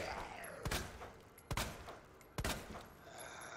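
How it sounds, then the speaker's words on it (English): Three sharp gunshots ring out at an even pace while shooting zombies in Resident Evil 2, each a hard crack standing out above low, quiet game ambience. "I'm shooting them like in the face"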